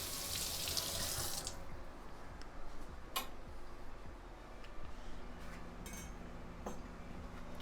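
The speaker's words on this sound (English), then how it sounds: "Rinse off our bacony knife." A kitchen tap runs hard at first while a knife greasy from bacon is rinsed, then the water drops to a softer trickle with a few sharp metallic clinks.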